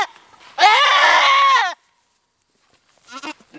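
A goat lets out one loud, drawn-out scream-like bleat while being held between someone's legs to be given a copper bolus, followed by silence and a few faint short sounds at the end.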